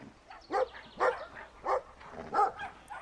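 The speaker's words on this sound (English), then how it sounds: "Why are you afraid of a little tiny dog?" A small dog in the video game Brothers: A Tale of Two Sons barks and yips four times in an irregular rhythm, close and fairly loud, with no talking over it.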